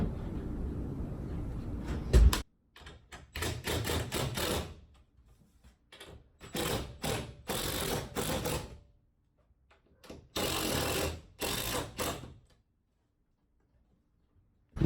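Self-tapping sheet metal screws driven into trailer studs with a power driver, heard as four loud whirring bursts of a few seconds each, separated by short pauses.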